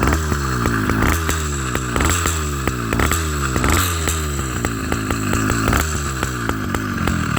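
A Phantom 85 motorbike, a smoky-running engine, idles low and close, a loud steady chugging burble with rapid regular pulses and occasional sharper pops, with no voices.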